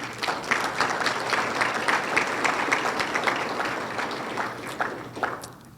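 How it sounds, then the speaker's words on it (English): Applause from an audience in a room at a regional civic address, dense steady clapping that holds for several seconds at close to even loudness, then thins toward the end. "give yourselves a round of applause"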